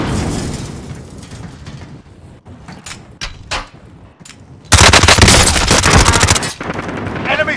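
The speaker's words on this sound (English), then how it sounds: "I'm under fire!" Call of Duty Warzone gunfire in Verdansk, with scattered single shots and short bursts, then a long sustained burst of automatic fire up close.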